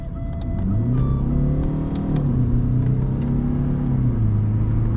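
A 2015 Mercedes S300 Bluetec Hybrid diesel with 231 hp accelerates hard on a motorway, its engine note rising and falling steadily through gear changes over a constant loud cabin drone and road rumble.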